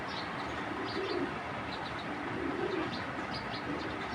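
Short-tailed racing pigeons in a loft, two soft low coos about a second and a half apart over a constant background hiss, with faint chirps scattered through.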